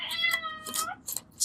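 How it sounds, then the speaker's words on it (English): A cat meows close by, a drawn-out cry followed by a couple of shorter meows in quick succession. "Can you hear my kitty?"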